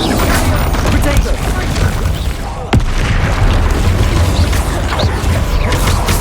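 Bombarda and Confringo spells burst in Hogwarts Legacy combat, loud booming blasts over a dense rumbling battle bed, with one sharp crack standing out midway.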